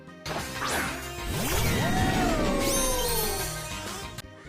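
A synthetic Pokémon cry from a video game, with sweeping, warbling electronic tones and a crashing burst, loud and continuous for several seconds, ending abruptly.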